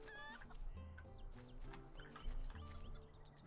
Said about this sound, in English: Rooster's coming around the back.